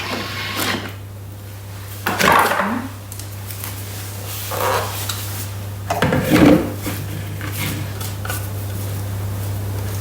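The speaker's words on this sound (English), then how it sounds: "Now we're going to scrape down the sides of the mixing bowl." A spatula scrapes down the inside of a Thermomix mixing bowl, giving a few separate rubbing scrapes over a steady low machine hum, close and clear with no talking.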